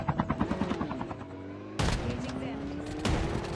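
Rapid bursts of automatic gunfire ring out in a Call of Duty Mobile match, a rhythmic volley at the start followed by two sharp, loud bursts later, with game effects and faint voices in the background.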